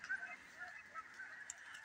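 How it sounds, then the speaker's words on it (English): Hundreds of Canada geese honk continuously from a field, a dense, steady chorus of overlapping nasal calls heard at a moderate distance with no talking. "Those are Canadian geese."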